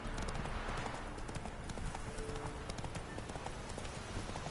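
Roach the horse galloping in The Witcher 3, rapid rhythmic hoof clip-clops pounding steadily over game ambience, close and loud for the whole stretch.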